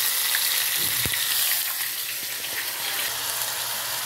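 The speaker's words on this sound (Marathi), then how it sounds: "आपलं तेल तापलेलं आहे. मोहरी घालायची" Mustard seeds and a ground paste of coconut, onion, ginger and garlic sizzle loudly and continuously in hot oil in a pan nearby, with occasional faint pops.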